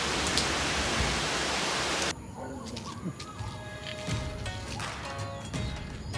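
A dense hiss of steady rainy-season rain in Sri Lanka fills the first couple of seconds, then cuts to quieter outdoor ambience with distant birds and faint voices.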